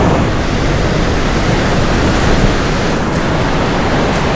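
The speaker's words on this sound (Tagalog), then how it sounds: "Grabe ang alon guys." Strong ocean surf pounds Karon Beach in Phuket, a loud continuous wash of breaking waves that fills the whole stretch with steady roaring noise, no talk over it.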